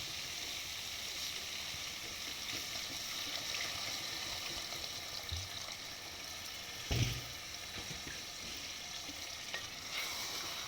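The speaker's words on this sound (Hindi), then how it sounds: "अब मैं इसमें ऐड करूँगी थोड़ा सा पानी ज़रूरत के मुताबिक।" Chana gosht sizzles and fries steadily in a pan after a little water is added, a continuous hiss with faint stirring and one brief louder splash near the middle.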